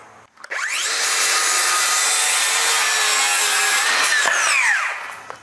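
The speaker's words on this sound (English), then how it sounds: "Using a circular saw today just for the fact that these big boards are hard to cut on a miter saw" Circular saw ripping through a big wooden board, a loud continuous whining buzz held for about four seconds before the blade winds down, with no talking.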